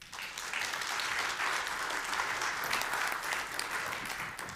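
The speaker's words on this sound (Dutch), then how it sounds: "En ik zou u ook graag willen vragen om een hartelijk applaus te geven voor Evelien Bugijn." A lecture audience breaks into warm, sustained applause, many hands clapping evenly in a large room with no voices over it.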